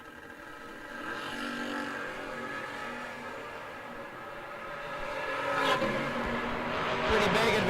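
A Ford Ranger and a Chevrolet S10 pickup launch in a no-box drag race, engines droning and then revving harder as they pull away, with an announcer talking over the noise.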